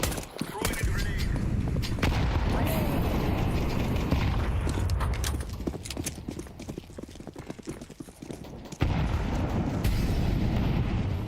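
A grenade thrown and exploding in the shooter game CS2, dense booming bursts and clattering impacts filling the scene amid continuous loud game noise, with a voice calling out under it.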